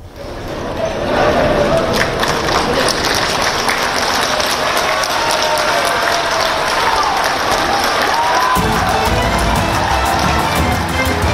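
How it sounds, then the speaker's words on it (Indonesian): Loud, sustained applause and cheering from PDI-P party congress members in Bali greeting politician Hasto Kristianto, a dense wall of clapping from a large crowd that continues unbroken throughout. "Kehadiran politikus PDI Perjuangan Hasto Kristianto disambut riuh tepuk tangan dari anggota Kongres PDIP"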